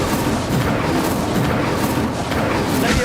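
In the video game Hogwarts Legacy, an Incendio fire spell is cast, a dense roaring burst of booming, crackling blasts that keeps a steady loud level for a few seconds.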